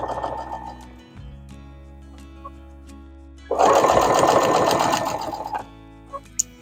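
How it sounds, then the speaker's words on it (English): A sewing machine stitches over quilt binding in one loud, steady run of rapid needle clatter lasting about two seconds, preceded by quieter mechanical hum and clicks. "I'm just going to stitch over it."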